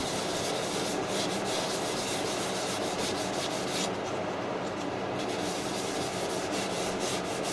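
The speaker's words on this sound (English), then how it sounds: "Just rub it in. Turn the lathe on, then buff it all off again." Steady, loud friction of a cloth buffing wax off a spinning oak plant pot on a wood lathe, a continuous hissing rub with slight rhythmic pulsing and no voices.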